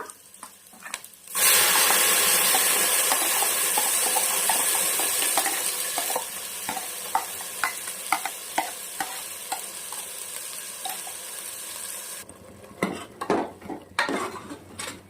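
Ground masala paste frying in a pan with onions, loud steady sizzle for several seconds, then a spoon repeatedly scraping and stirring with sharp metallic clinks and knocks against the pan.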